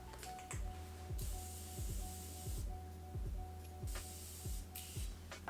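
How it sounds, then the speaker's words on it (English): Morphe Continuous Setting Mist sprays onto a face in a series of close, short bursts of fine hissing mist, each separated by clicky pump strokes, with no talking. "I like to set my face with this Morphe Continuous Setting Mist"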